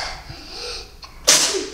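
A single sharp sneeze bursts out near the end after a brief quieter lead-in, loud and close, with a short breathy tail.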